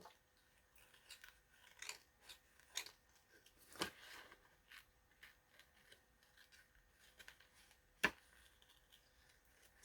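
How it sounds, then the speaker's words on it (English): Scissors snipping around a paper cutout for a collage, a series of quiet, irregular cuts with one sharper snip near the end, no talk. "the secret with fussy cutting is to move the paper, not the scissors"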